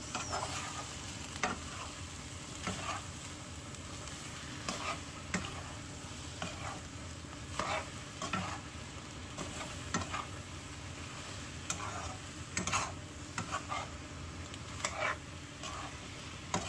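Egg and bitter gourd are stirred together in a frying pan, with a steady sizzle and repeated scraping, ticking utensil strokes against the pan at an uneven rhythm throughout; no speech.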